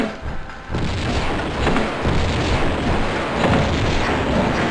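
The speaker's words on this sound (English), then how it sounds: "let's pull out the grenade launcher" Grenade launcher shots in a video game, heard as heavy booming blasts that roll into a sustained, loud rumble with no talk over them.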